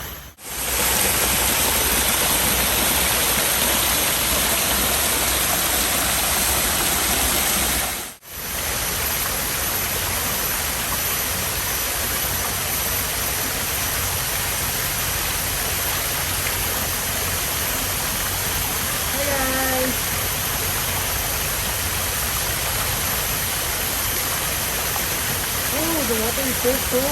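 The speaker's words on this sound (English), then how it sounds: "we've reached the falls" A small waterfall on the Imbiah Nature Trail in Singapore pours in a steady, loud, broadband rush that fills the whole stretch, with a person talking briefly over the constant splashing water.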